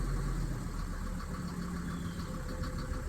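Mercedes 250GD engine running close and loud, a steady rough rumble with a faint rattle and no clear rise or fall in revs.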